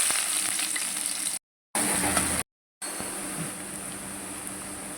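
Onions frying in hot oil, a dense, even, loud sizzle that continues throughout, broken by two short silent gaps.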